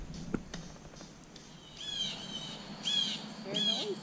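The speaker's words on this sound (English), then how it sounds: "The birds are acting up." Birds at dusk in Petit Jean State Park, Arkansas, give faint high chirps and trilling calls in scattered bursts over a soft outdoor hush, with a few quiet voices nearby.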